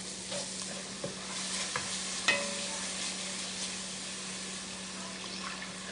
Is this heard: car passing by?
no